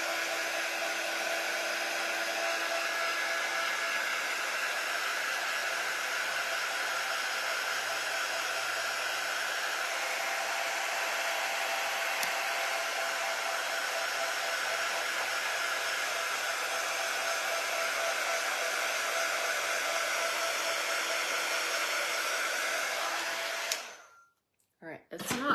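A hair dryer blows steadily on a painted lantern sign, a loud continuous whooshing roar at a constant level that cuts off abruptly at the end.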